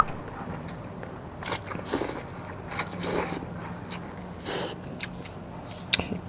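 Close chewing and eating of som tam papaya salad with khanom jin rice noodles and salmon, with intermittent soft crunches and wet mouth sounds at irregular intervals.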